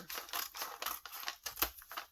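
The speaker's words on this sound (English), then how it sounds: "I can just hack it up with scissors" Scissors roughly hack through brown paper for a junk journal, a quick series of close, crisp snips and rustles with no talking.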